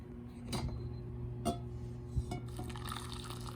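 Sparkling mineral water poured into a cup, a soft running trickle punctuated by a few sharp clicks and knocks, fairly quiet and close, with no talk.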